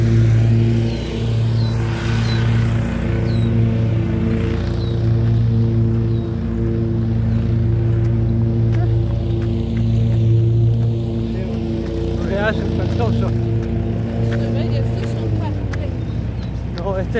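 City of Pickering work trucks pass by, their engines droning low and steady with tonal hum and a rise as one goes by, loud and near, with a person talking over them.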